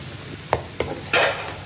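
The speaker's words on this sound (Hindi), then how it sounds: "गाजर हमारी फ्राई होते हुए यहाँ पे 2 से 3 मिनट गुजर चुके हैं।" Finely chopped carrots frying with chicken in a pan: two quick spatula scrapes followed by a louder, longer burst of stirring over a continuous close sizzle.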